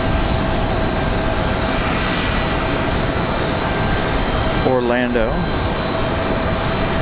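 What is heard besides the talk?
Southwest airliner arriving at Raleigh Durham airport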